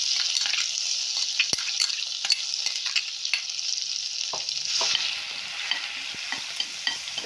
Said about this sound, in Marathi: आता हे आपलं मिक्सरला वाटलेलं वाटण हिरवं हे घालून घेते